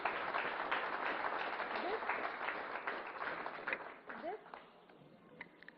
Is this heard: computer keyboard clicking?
no